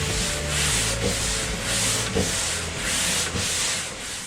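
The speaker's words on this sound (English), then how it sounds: "the strongback is sanded with either 120 or 240 grit paper" Continuous hand sanding of a fibreglass boat strongback with 120 or 240 grit sandpaper, a close, steady rasping rub in rhythmic back-and-forth strokes.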